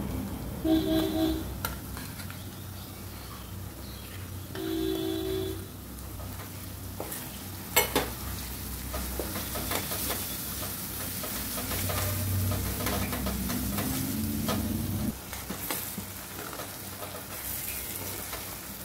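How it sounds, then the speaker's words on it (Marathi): Ginger garlic paste and masala frying in a pan for a mirchi chi bhaji, a soft continuous sizzle with occasional stirring clicks and scrapes, fairly quiet and steady throughout. "आणि नंतर हा मसाला टाकून घ्यायचा।"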